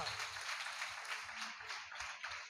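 A church congregation at a Sunday worship service in Bethel prayer hall claps loudly together, a steady dense wash of many hands that fills the room for the whole stretch with a faint low rhythmic thud beneath.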